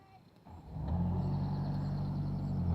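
A stalled tractor engine cranks and catches, rising from quiet into a steady, loud low rumble that holds close and even once it is running again.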